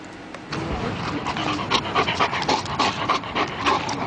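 A German shepherd service dog pants rapidly and steadily, quick breathy huffs repeating close to the microphone over a busy background.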